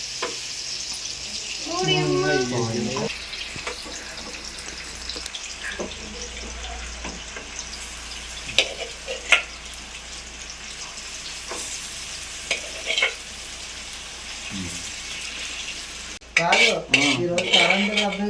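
A pan of food fries in a home kitchen during a cooking session, with dishes and utensils clinking and stirring throughout; a voice is heard briefly early on and again near the end.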